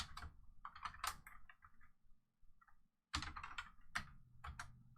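Close, quick keystrokes on a computer keyboard come in two bursts of rapid clicking separated by a brief pause.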